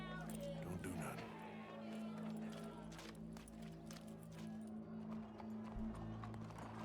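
Horse hooves clip-clop in the video game Red Dead Redemption 2, a steady rhythmic clatter over a low droning hum, with voices talking over the hoofbeats.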